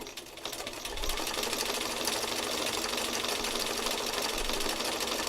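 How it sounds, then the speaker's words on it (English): A sewing machine runs steadily as it stitches over the line of a toy's muzzle, a continuous close mechanical whir that gets slightly louder after the first second and holds without pause. "I'm just going to stitch right on top of the line that just goes like this"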